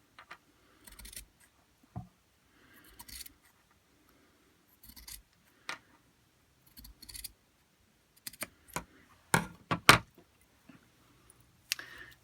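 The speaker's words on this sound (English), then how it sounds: "So we need to cut along that seam." Scissors snip through fabric along a seam while cutting out a Barbie doll coat, giving sparse, quiet, irregular cuts with pauses between them and no talking.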